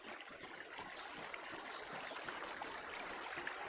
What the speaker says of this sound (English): But I hear water, though.